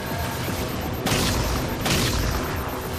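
Shotgun fire in Halo 4, two heavy, loud blasts about a second apart over a dense, constant game soundscape.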